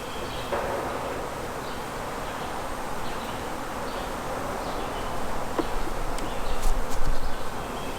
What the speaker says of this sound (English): I think we're literally watching these bees decide to leave home right now.